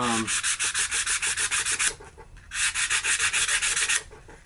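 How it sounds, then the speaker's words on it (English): Hand sanding a replica pistol cosplay prop, smoothed up to 220 grit, gives a rapid series of rhythmic rubbing strokes, loud and close, pausing briefly in the middle before resuming. "It's been sanded, smoothed all the way up to 220."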